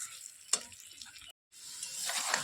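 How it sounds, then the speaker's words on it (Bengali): Pointed gourd and potato being fried and stirred with spices in a pan give a soft, quiet sizzle with occasional spatula scrapes and a short pause midway. "এবার মশলা দিয়ে কষিয়ে নিলে হয়ে যাবে।"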